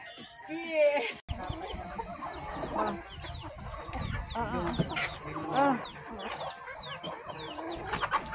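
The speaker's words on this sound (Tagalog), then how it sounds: "May alagang manok" Pet chickens cluck and chatter close by at a rural roadside eatery, with repeated short bird calls and occasional loud squawks, while people talk over them throughout.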